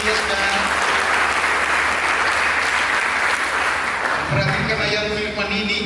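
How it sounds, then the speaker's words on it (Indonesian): A church congregation breaks into louder, more enthusiastic clapping during a sermon, a loud, dense roar of hands that swells and then eases near the end as speech resumes over it. "Kita berikan tepuk tangan yang lebih meriah"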